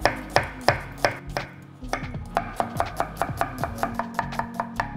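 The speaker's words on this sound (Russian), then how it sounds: "Берем пару луковок и мелко-мелко крошим." A knife finely chops a couple of onions on a board, sharp rapid knocks coming close and loud in quick runs with a brief pause partway through, no voices.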